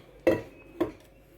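A bowl clinks twice against a hard kitchen surface or a utensil while oil is added, preparing boiled chickpeas. The two short, close knocks are about half a second apart.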